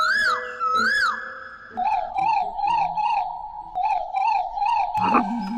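A cartoon character's voice imitates a frog croak, with a string of rhythmic warbling, wobbling croaks repeated up close, followed by a short squeaky sound near the end.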